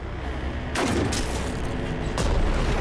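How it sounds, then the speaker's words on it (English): Cannon fire in the Aether & Iron video game lands as heavy booming blasts, one near the start and another toward the end, over a dense continuous rumble of battle noise. "Gia, if he uses that cannon any longer, he'll..."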